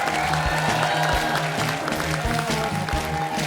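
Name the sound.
audience applause at a comedy show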